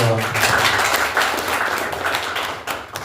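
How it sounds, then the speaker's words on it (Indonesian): Teachers' association branch conference audience clapping, close and busy, a dense patter of many hands over a short burst with a low voice or hum under the start. "Tepuk tangan dong."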